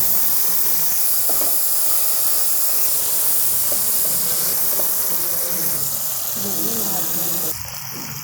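Okra pieces with salt and achari spices frying in a pan over medium heat give a steady, loud, hissing sizzle throughout, with a voice faintly audible underneath.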